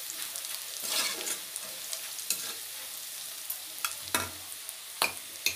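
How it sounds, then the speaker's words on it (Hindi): Onions frying in a pan for a fish head curry, a steady close sizzle with a few sharp scrape-like bursts from stirring spread through the clip, no voices. "अभी प्याज अच्छे से फ्राई हो गया है"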